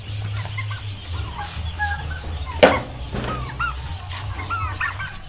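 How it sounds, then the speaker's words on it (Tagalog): A flock of birds warbles and gobbles steadily in the background, with one sharp knock partway through and a low hum underneath. "ito po yung aking mga alaga, mga pabo"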